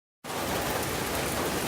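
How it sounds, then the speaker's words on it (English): Heavy rain drums on a tin roof on a farm, a dense, loud, constant roar that starts abruptly after a moment of silence and holds steady with no voices. "As you can see, it's raining. And as you can hear, I live under a tin roof."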